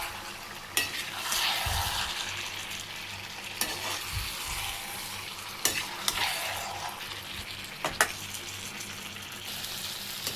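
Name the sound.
stirring lemon pickle after adding vinegar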